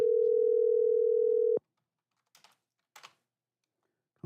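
A phone dial tone plays as a steady, loud continuous tone for about a second and a half, then cuts off, followed by a few faint short keypress taps in the quiet.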